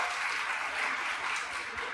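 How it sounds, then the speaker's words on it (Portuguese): An audience applauds at a talk on entrepreneurship, giving steady, dense clapping that holds evenly for the full stretch at moderate loudness, with no voices over it. "uma salva de palmas"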